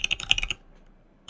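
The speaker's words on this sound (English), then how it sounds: "So we're now going to type that in" Typing a domain name on a Windows 11 PC computer keyboard: a quick run of about ten crisp, close key clicks over half a second, then near silence, with one last keystroke at the very end.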